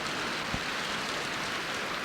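Rain falls in a steady, dense hiss, an even wash of drops on surfaces with no breaks, loud and close throughout.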